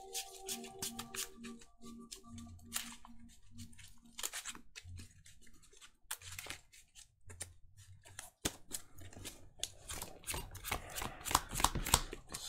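A deck of Magic cards is shuffled nearby in quiet, papery riffles and snaps, with a longer rustling flurry toward the end.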